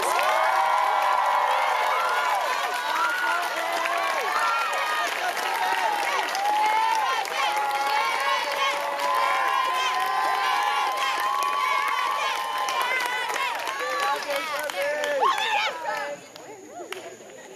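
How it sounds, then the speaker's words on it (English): A crowd claps, cheers and shouts for the TAC team at a Governor's School closing convocation, loud and sustained with excited voices mixed in, dropping off near the end. "let's give Chan and our TAC team a huge round of applause"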